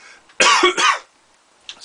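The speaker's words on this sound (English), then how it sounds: "I've got a cough at the moment as well." A single harsh, throaty cough burst, close and loud, followed by quiet with a faint breath at the end.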